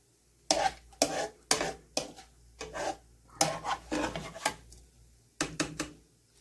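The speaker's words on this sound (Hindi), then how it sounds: "अब हम चिरौंजी फ्राई कर रहे हैं।" Chironji nuts, soaked, peeled and cut, frying in a pan for sheer khurma: a quiet background hiss under repeated bursts of scraping and rustling as the nuts are stirred, irregular in rhythm and heard up close.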